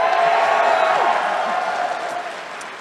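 A live audience at Summer Games Done Quick 2023 cheers loudly and steadily during a Sonic Frontiers speedrun, a dense crowd roar that fades slightly toward the end.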